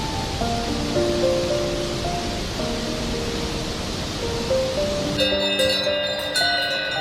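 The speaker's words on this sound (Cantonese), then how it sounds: "呢一條呢係大概有300米，比較大啲嘅一條瀑布。" A large waterfall roughly 300 metres high in Switzerland's Jungfrau region gives a steady broadband roar, joined by tonal chimes that sound like distant cowbells, growing busier toward the end.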